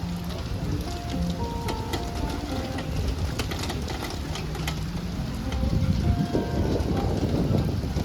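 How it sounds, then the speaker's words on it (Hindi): Steady rain pours down at a lake resort in the Tamhini Ghats near Mulshi, Maharashtra. The hiss of falling water is continuous, dense and close, and it swells somewhat louder toward the end. "इतनी बारिश हो रही है, ठंडक हो रही है"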